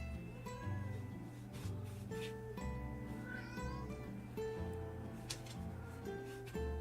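A house cat meows repeatedly indoors in a room, a series of tonal, somewhat strained calls in an irregular rhythm, close and fairly clear over a faint background.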